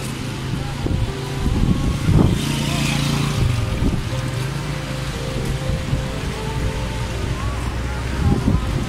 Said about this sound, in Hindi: बारिश लगी हुई है